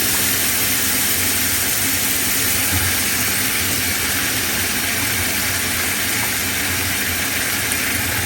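Vegetables hit a hot pan in a home kitchen, and a steady, broad sizzle hisses at even loudness the whole time, close up, with no talk over it.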